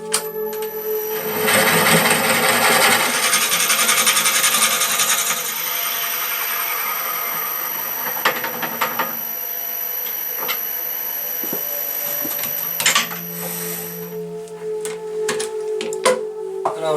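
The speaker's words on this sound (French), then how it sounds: "je vais percer à 16 mm pour que la lumière puisse passer" A power drill bores a 16 mm hole through a resin-and-wood piece for a lamp, a steady loud whirring grind for several seconds that then eases into lighter scraping and handling noises.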